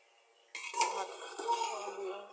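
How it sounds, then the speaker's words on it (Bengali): A metal lid set down on a pot of white pulao, a sudden close clank followed by brief ringing metallic rattles. "ঢাকনা দিয়ে দমে রেখে দিব"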